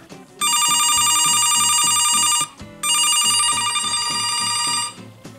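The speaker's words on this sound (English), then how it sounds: "I'll try calling the home phone and see if it works." A home landline telephone rings with a loud electronic trill in two long bursts separated by a short pause, sounding close and clear with no talking.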